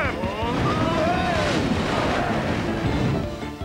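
Animated water-effects scene from the film El Dorado, with a dense, continuous rush of splashing water and surf-like roar filling the whole stretch at steady loudness.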